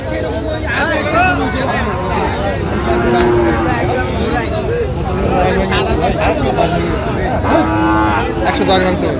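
Cattle at a Narayanganj cattle market, including Sahiwal bull calves, moo repeatedly and loudly over a constant babble of traders and crowd chatter.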